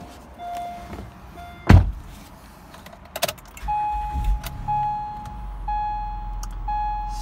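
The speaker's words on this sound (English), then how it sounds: "Started the car again." An Acura MDX being started after a suspension height sensor repair: a sharp key or ignition click, a thunk, then warning chimes beeping at intervals as the engine settles into a low, steady idle.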